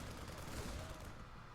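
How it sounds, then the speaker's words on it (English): Continuous gunfire exchanged between a Marine and a Reaper in StarCraft, a dense, loud rattle of rapid shots that holds steady and tapers slightly at the end. "A couple exchange of gunfire."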